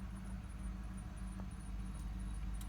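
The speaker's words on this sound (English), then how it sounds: "You hear that belt squeak?" A Chevy LT car's engine belt squeaking in short repeated high chirps over a low engine hum, fairly faint and regular.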